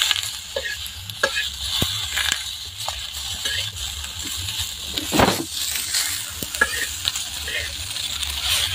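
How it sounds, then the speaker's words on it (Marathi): Green chillies sizzle and fry in a pan with cumin and garlic while a spoon stirs and scrapes through them, a steady close crackle with occasional louder clinks against the metal. "जिरं आणि लसूण पण त्याच्यातच टाकायचं आहे, छान असं मिक्स करून घ्यायचं आहे"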